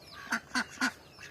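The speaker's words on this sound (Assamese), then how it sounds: "এইফালে চাওক, হাঁহ আছে" Ducks kept for sale give four nasal quacks, three evenly spaced and close, then a fainter fourth, with no talk.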